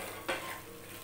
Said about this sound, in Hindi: इसे हमें अच्छे से मिक्स करके कुछ देर के लिए ढक के रख देना है।